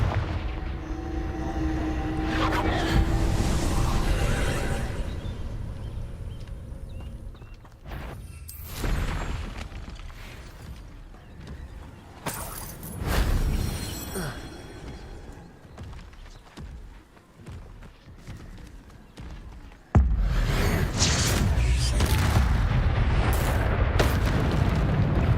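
Repeated Confringo fire spell blasts in Hogwarts Legacy combat, loud booming explosions with rumbling low-end bursts in quick succession, one sharp blast near the end followed by sustained roaring, no talk.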